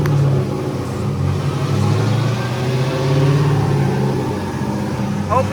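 LS-swapped Nissan 350Z runs on a dyno, its V8 droning steadily with low, rumbling harmonics that swell slightly mid-run, loud and close, with no speech.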